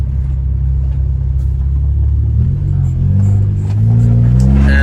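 A car accelerating hard in a full-throttle pull, its engine rumbling loud and steady and then climbing in pitch as revs build, with no talk over it.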